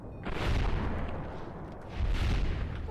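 Video game gunfire from a .50 Beowulf AR-15 rifle: two heavy booming shots about a second and a half apart, loud with a rumbling tail, and no speech.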